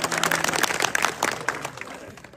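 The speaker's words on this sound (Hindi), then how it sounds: "इसके लिए एक बार और मेरी तरफ से आप लोग ताली बजाएं।" An audience applauds at a political gathering of the Saini community in India, a dense burst of clapping from a crowd, fairly close and loud, fading slightly toward the end.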